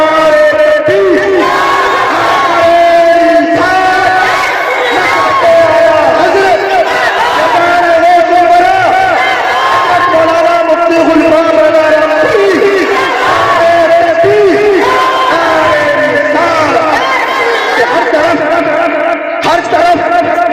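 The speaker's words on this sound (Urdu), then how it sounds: "بلند آواز سے نعرے کا جواب دے، نعرے تکبیر" A large crowd at a religious gathering shouts the response to the Takbir slogan in a loud, sustained roar of many voices that fills the space without pause.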